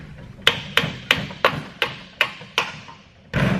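A part is tapped out of the rear end of a JZX100 Chaser with a hammer, seven evenly spaced sharp metallic knocks, close and clear, then a louder rough scrape.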